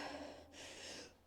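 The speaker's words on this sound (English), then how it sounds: "Big breath in." A deep breath drawn in before a bench press lift, close and breathy, one sustained inhale with a brief pause midway, alone without talk.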